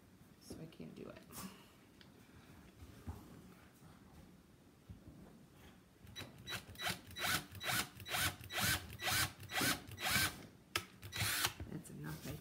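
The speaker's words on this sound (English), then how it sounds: "So I'm just really going to drill just a tiny bit in." Power drill driving short screws into a mount for a staghorn fern, with quiet handling at first, then a run of rapid, loud, stuttering drill pulses that grow stronger toward the end.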